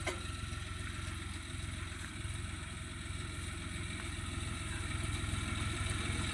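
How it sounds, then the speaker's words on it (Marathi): A tractor engine idles nearby on a farm, a steady, rumbling mechanical drone with a faint rattle that holds constant and alone throughout. "तर मित्रांनो आला ट्रॅक्टर बघा"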